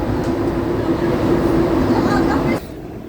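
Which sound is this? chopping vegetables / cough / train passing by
train passing by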